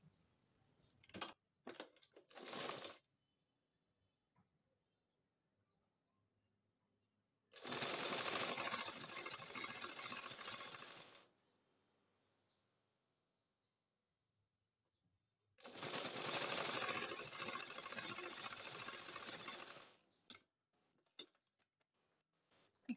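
A sewing machine stitching a blouse panel runs in three bursts, one short stuttering run and two long even whirring stretches of several seconds each, close and loud, with quiet pauses and faint handling noises in between.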